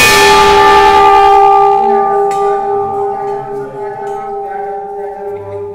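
A temple bell rung once at Ghuisarnath Dham, a loud metallic strike followed by a long, steady ringing decay with sustained overtones, heard alone.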